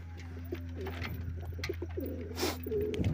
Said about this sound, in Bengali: সব পায়রা এখন মস্তিতে আছে